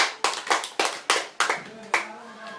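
Applause at a high school debate, sparse hand claps in a slow, loose rhythm, about seven distinct claps close by with a faint hum underneath.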